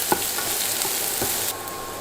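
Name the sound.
stir frying ginger and garlic in oil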